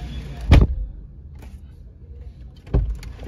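A Toyota Urban Cruiser car door shuts twice, each a sharp solid thump, the first near the start and the second toward the end, with quiet between them.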